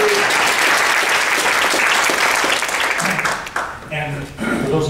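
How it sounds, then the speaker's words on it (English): Applause from an elementary school gathering, loud and dense for several seconds before thinning out as a voice begins talking near the end. "Big round of applause."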